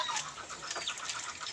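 Native ducks on a provincial farm in the Philippines give quacking calls over a brief span, moderately close, with no talking.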